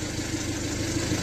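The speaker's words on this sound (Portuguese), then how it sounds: "eu venho tirar os caminhões do estacionamento" A company truck engine idles in a parking lot, a steady, continuous low rumble with even loudness throughout and no voices.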